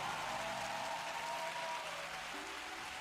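A large gathering gives applause for elected officials, city council members and commissioners, as a continuous, fairly quiet and distant wash of clapping with faint crowd murmur.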